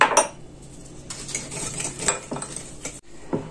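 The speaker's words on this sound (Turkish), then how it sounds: "Çırparak yumurta ile şekeri çırptım ve kabarttım" Eggs and sugar whisked in a bowl make quick, uneven clinks and scrapes of a metal whisk against the dish, close and busy throughout with no talking.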